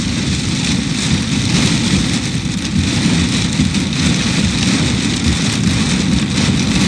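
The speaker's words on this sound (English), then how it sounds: "all you're hearing is rain" Heavy rain pounds down during a severe storm in South Dakota and Minnesota, a loud, continuous roar of downpour on a surface, with a low engine-like rumble beneath it, steady from start to finish.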